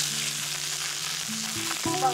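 Food sizzles in hot oil in a wok in a rural Chinese home kitchen, a steady hiss of frying heard close up, with faint tonal sounds underneath.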